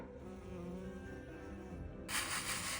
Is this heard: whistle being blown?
no